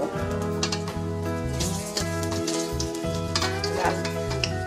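Bora fritters sizzle steadily in hot oil with constant crackling and popping close by, under a sustained tonal hum with a repeating rhythmic pattern running throughout.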